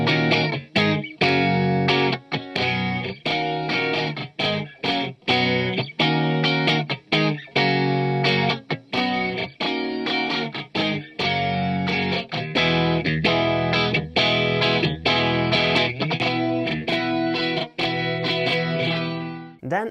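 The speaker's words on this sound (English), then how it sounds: "I have to say that this doubler really sounds great. I have used this function in the demo song" Electric guitar played through the doubler effect of a KMA Endgame pedal, giving thick, layered distorted chords in steady strummed rhythm that continue loud and alone for the whole stretch.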